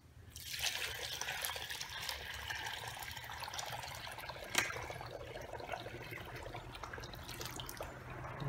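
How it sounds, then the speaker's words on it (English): Water poured from a bucket into a plaster of Paris mixture for a charcoal foundry build, a steady close trickling and splashing pour lasting several seconds with no talk. "Let's pour the first bucket in."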